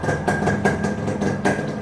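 A Yamaha RX two-stroke motorcycle engine idles close by with a steady, throbbing exhaust note, periodic pulses repeating evenly throughout.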